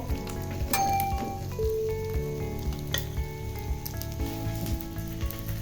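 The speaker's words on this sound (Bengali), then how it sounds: "এই পিঠ ও পিঠ দোনো পিঠে মাছটা সুন্দর করে ভেজে নিয়েছি" A whole hilsa fish sizzles and crackles steadily in hot oil, with occasional clinks of a utensil against the pan.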